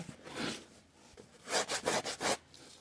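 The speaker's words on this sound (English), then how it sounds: "I feel like the more I sand it, the more I'm also removing the" Sandpaper rubs over a stiffened, coated fedora cap: a soft scrape at first, then four quick rhythmic back-and-forth sanding strokes, close and fairly loud.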